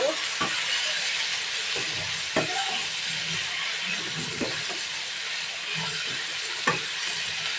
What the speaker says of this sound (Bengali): মাংসটা দিয়ে ভালো করে একটু নেড়ে নেব।